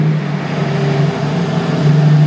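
Lamborghini Revuelto engine holding a loud, steady low drone close by, building slightly toward the end with no voices.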